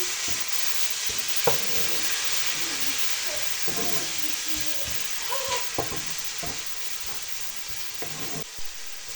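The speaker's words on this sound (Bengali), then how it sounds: "মশলা কষানো হয়ে গেছে" Cumin and spice masala sautéing with a splash of water in a pan for a pointed gourd, potato and carrot curry: a continuous dense hissing sizzle with intermittent spatula knocks and stirring scrapes, moderately loud and close.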